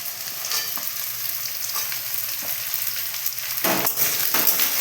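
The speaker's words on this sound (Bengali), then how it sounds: "বিনস আর গাজর একটু ভাজা ভাজা হয়ে এলো" Beans and carrots sizzle steadily in a hot pan, with occasional scraping and stirring sounds rising over the constant frying hiss.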